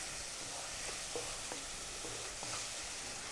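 Tomato puree masala sautéing in hot oil for Kabuli rice, a steady close sizzle with a few soft stirring scrapes of the spoon in the pan.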